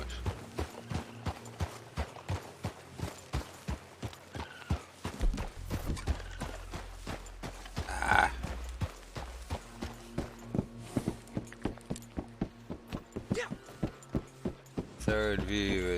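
Steady rhythmic hoofbeats of a galloping horse in Red Dead Redemption 2 Online continue throughout, with a brief whinny midway and some game effects over the top.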